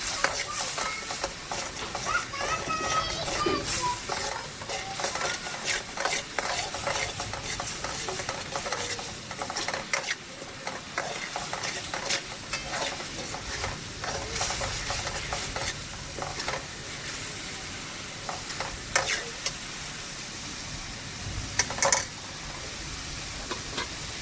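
Chopped onion and garam masala frying for a crab dish, with a continuous hissing sizzle and constant, busy spatula scraping and stirring that run close and steady throughout.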